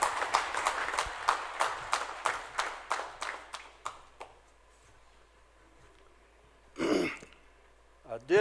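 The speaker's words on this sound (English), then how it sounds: "Please welcome sir with a huge round of applause." At the SJVN DRISHTI Conclave 2022, an audience welcomes a speaker to the dais with about a dozen evenly spaced claps over four seconds that thin out and stop. A throat clearing and a brief voice follow in the quiet room.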